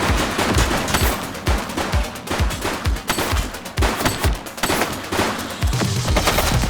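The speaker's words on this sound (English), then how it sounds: "He's shooting!" Rapid, continuous gunfire from the video game The Precinct rattles out in dense automatic bursts with punchy low-end thumps, loud and close throughout.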